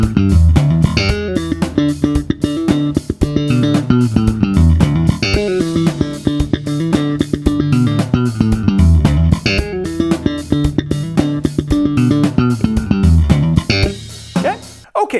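Slap bass plays a bass line along with the full band recording, a busy, punchy stream of popped and thumbed notes driving loudly and continuously over the track.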